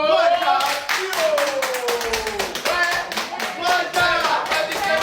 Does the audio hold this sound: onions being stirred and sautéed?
no